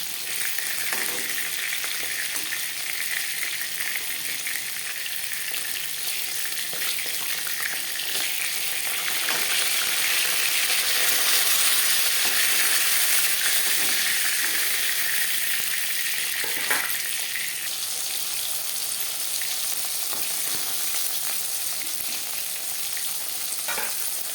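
Rohu fish head and pieces fry in oil in a kitchen wok, producing a steady, close, loud sizzle that swells briefly midway and carries on evenly, with occasional faint utensil clinks and no talking.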